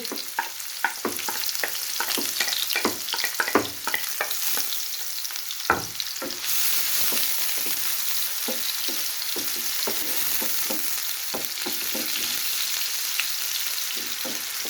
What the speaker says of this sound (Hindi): ऑयल हमारा गर्म हो चुका है। तो इसमें प्याज ऐड कर देंगे।